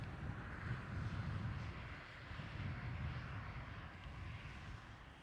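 An EgyptAir Airbus A321neo at Amsterdam Schiphol gives off a distant, low engine rumble that swells slightly and then eases, steady and fairly faint over five seconds.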